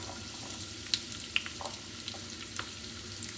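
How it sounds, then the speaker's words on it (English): Gentle, steady sizzling of sofrito frying in about 4 tablespoons of olive oil in a cast iron pan over medium heat, with soft crackles and small pops close by, no voices. "We have a cast iron pan with about 4 tablespoons of olive oil over a medium heat."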